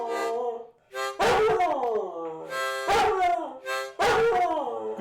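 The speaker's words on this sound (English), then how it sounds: "Could you hear her barking?" A dog howls and yips in drawn-out, wavering cries that rise and fall against a harmonica, with loud, close bursts repeating in a few long phrases.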